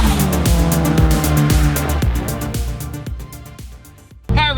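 A twin-turbo V10 go-kart built from an Audi R8 drives hard, its loud engine roaring and shifting in repeated bursts, with tire squeal and a sharp rising rev near the end.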